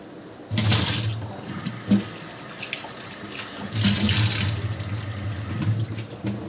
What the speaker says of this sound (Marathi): चला वांगे धुवून घेते आता